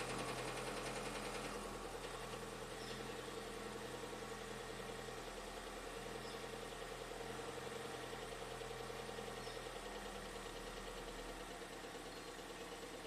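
A Ford EcoBoost engine idles during warm-up, giving a steady, low mechanical hum with a faint rhythmic ticking. It runs quietly and evenly throughout with no talking.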